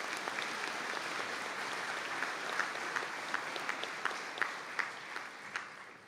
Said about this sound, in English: If I could ask you to give them all a round of applause